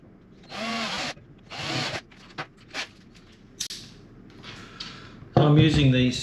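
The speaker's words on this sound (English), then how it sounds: "we need to drill some pilot holes in there first." A power drill bores pilot holes in a table pedestal during a camper table retrofit, in two short whirring bursts separated by pauses with light handling noises, followed by a louder, higher drill whine at the end.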